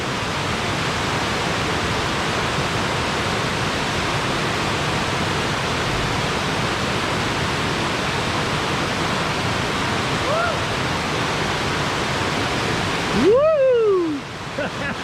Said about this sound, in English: There's a good view of the water that's pouring out of the cave up there.